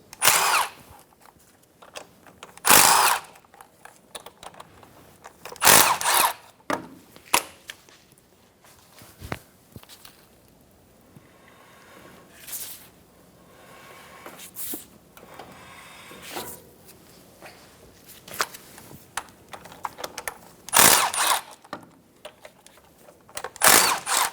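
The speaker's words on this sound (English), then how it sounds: "Using a 15mm socket, remove all of the axle bolts." Impact-style power tool fitted with a 15mm socket backs out axle bolts on a 2014-2018 Chevrolet Silverado 1500 differential, several loud bursts of whirring and rattling separated by pauses, close by with no talk.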